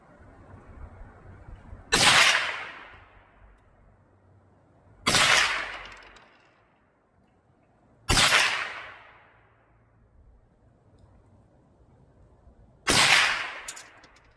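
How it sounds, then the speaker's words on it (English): Four sharp, loud rifle shots ring out at a target outdoors, widely and unevenly spaced, each a sudden crack trailing off into a brief decaying echo, with quiet pauses between them and no talking. "I'm shooting for the bottom center target."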